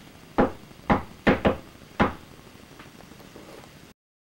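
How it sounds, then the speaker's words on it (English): Knocks on wood during a paranormal investigation: five distinct raps in an uneven pattern, two of them in a quick pair, each sharp and close, followed by faint quieter taps in a hushed room. "Well, I'm going to knock."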